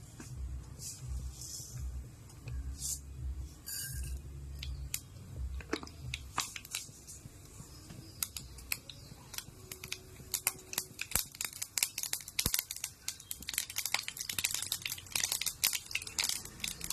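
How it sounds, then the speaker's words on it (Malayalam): Mustard seeds pop and crackle in hot coconut oil as a tempering for sambar, sharp irregular snaps that grow denser over a low background sizzle, close to the pan. "കടുക് പൊട്ടി തുടങ്ങിയിട്ടുണ്ട്."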